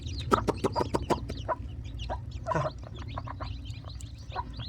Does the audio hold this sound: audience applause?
no